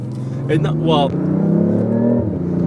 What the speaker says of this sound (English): Love the downshifts in this car.